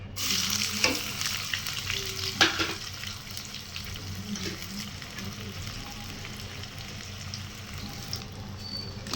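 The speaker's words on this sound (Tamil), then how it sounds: "இப்போ பெரிய வெங்காயம் போட்டுக்கலாம்." Sliced large onions hit hot oil in a pan on a medium flame, a steady bright sizzle and crackle running throughout, with a few utensil knocks and stirring scrapes near the start.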